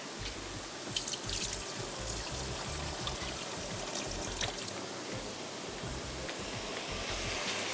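Water draining off soaked rice for mutton pulao, a steady trickling pour with small drips running continuously, close and moderately quiet with no talking.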